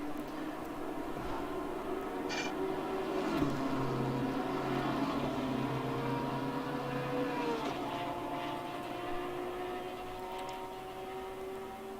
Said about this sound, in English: Just the sound of that Porsche, man oh man.